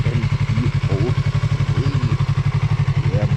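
A Yamaha MT03 motorcycle engine runs close by with a rapid, regular pulsing thrum, a steady idle beat, while faint voices murmur briefly in the background.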